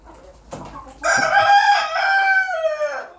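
Roosters in a backyard chicken coop at night: a short cluck, then a loud, close, drawn-out crow that wavers and fades, with no talking.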